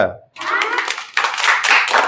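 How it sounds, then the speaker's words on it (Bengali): Children in a village classroom clap together, a dense, loud burst of many hands that starts abruptly after a brief silence and keeps going, with a surge partway through. "তাহলে হাততালি হবে"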